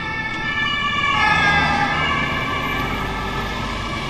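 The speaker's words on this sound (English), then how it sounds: "So that's a police car in Berlin." A police car siren wails on a Berlin street, steady sustained tones sounding fairly close and continuous over low traffic rumble, with no talking.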